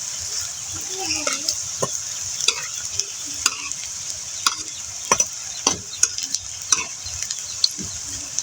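Pieces of sweet pumpkin biscuit pitha frying in hot oil, with a steady bright sizzle and a run of sharp, close clicks and taps as the pieces are placed and turned.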